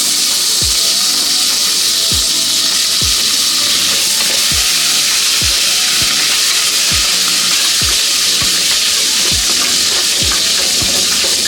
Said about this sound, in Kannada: ಎರಡು ಕಡ್ಡಿ ಕರಿಬೇವು ಹಾಕೋತಾ ಇದ್ದೀನಿ.